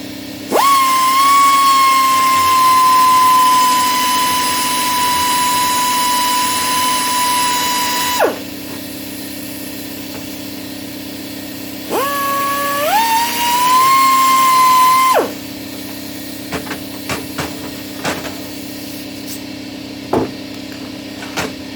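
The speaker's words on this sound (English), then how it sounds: "grind away just that corner" An angle grinder cuts into the overhanging corner of a steel vice jaw during restoration work, giving a loud, sustained high whine for several seconds, then a second shorter burst of grinding, followed by scattered clanks and taps.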